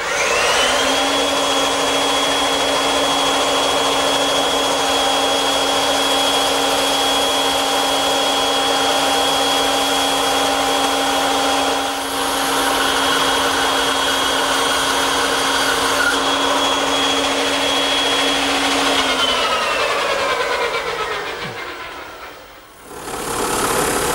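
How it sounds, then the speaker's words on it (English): A woodworking bandsaw fitted with a 1/4 inch wide blade cuts tight radius curves in wood, a loud steady motor whine with cutting hum running about 19 seconds before spinning down near the end, with no talk. "I'm going to cut it over here on the bandsaw, which I've equipped with a 1/4 inch wide blade"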